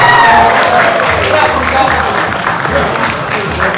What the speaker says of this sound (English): If I chuck this out, are you going to clap?